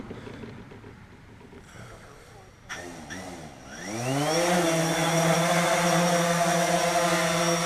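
A DJI Phantom 3 quadcopter spins up and lifts off in a tight space, its rotors rising from a low whir to a loud, steady high-pitched buzz that holds close by.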